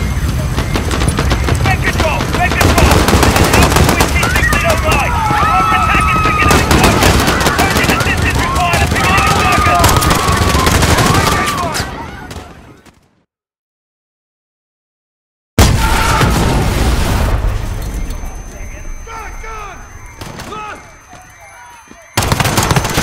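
Dense automatic gunfire and blasts from a Call of Duty Modern Warfare battle at Piccadilly Circus, sustained and loud with bursts over talk, cutting to total silence for a few seconds, then resuming and thinning out.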